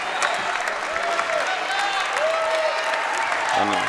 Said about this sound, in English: so a nice round of applause here